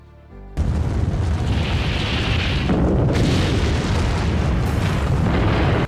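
A nuclear fusion bomb explosion begins with a sudden blast and swells into a loud, sustained, deep roaring rumble that keeps going without talk.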